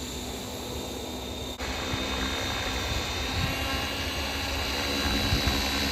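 A Trex 550L RC helicopter, converted for night flying, spins up to idle 2, its steady high-pitched whine and rotor hum rising slightly after a brief dip and then holding level and close.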